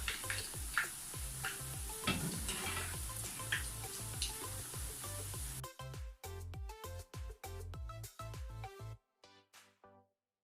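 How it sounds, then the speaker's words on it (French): Chicken breast cutlet balls frying in oil give a dense, crackling sizzle for about five seconds, then the sound turns into a sparse series of rhythmic ticks before fading to silence. "On va mettre un peu d'huile dessus, comme ça va bien frire."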